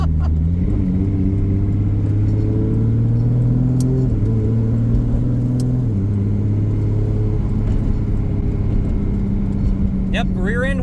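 A 2JZ-powered S14 car with an 8HP70 automatic transmission accelerates hard, its loud engine drone stepping through quick gear shifts with steady rumble throughout.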